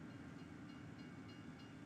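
A train in the farming video game Farming Simulator 25 rumbles steadily as a continuous, fairly faint low roar with hiss. No voices are heard over it.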